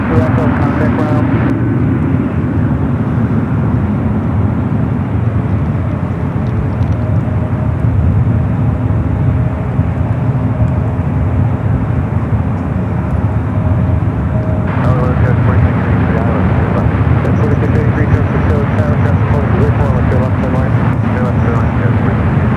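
An SAS airliner lands at San Francisco airport, its engines giving a steady, broad roar that runs throughout, with a brief surge partway through, while voices talk over it.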